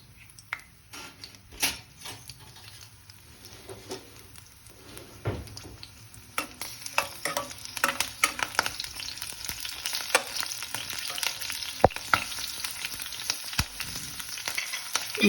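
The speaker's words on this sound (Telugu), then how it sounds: "ఆయిల్ వేడయ్యాక కొద్దిగా పచ్చిమిర్చి, ఉల్లిపాయ ముక్కలు," Green chillies and onion pieces fry in hot oil for a home-cooked chicken curry, a close, continuous crackling sizzle with scattered stirring clicks that grows busier and louder.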